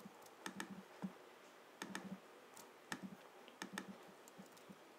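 Quiet keyboard typing and mouse clicking while editing code in Sublime Text, with clustered bursts of sharp clicks in an irregular rhythm, close and soft, with no voices.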